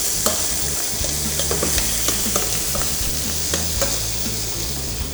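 Kale frying in the same pan used for the bacon, a loud dense sizzle and crackle running throughout with frequent small pops and stirring clicks, close up and with no voices.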